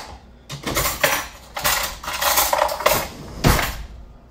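Blended homemade pest repellent mixture scooped out of a container toward a strainer, with a series of close, loud scraping and clattering bursts of utensil against the vessel, uneven in rhythm, with no voices.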